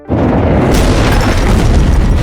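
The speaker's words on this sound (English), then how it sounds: "he heard a loud noise overhead, followed by a violent explosion" A loud, deep explosion roars in and sustains as a heavy rumbling blast, dense and close, filling the whole short moment.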